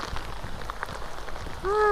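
Heavy rain pours down steadily outdoors during a rainy-day fishing outing at countryside ponds, a dense continuous hiss throughout, with a brief tonal call rising near the end.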